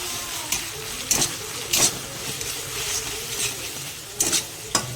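Ginger garlic paste frying with softened chopped tomato in a pan for an egg and pointed gourd curry, a steady sizzle broken by several sharp scraping stirs of the spatula, close and fairly loud with no talk.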